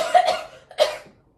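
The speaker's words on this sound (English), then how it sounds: "You've had that cough for weeks." Two short, raspy coughs close by, the second after a brief pause, then silence.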